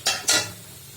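Black cumin seeds tempered in hot oil for a potato fry, giving two quick loud bursts of close sizzling that fade into a faint hiss.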